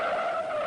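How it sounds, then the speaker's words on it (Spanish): A Ford Taunus skids into a full spin, its tires letting out a steady, loud squeal that holds for under a second, with no talk. "Ahora acabará por dar un trompo completo."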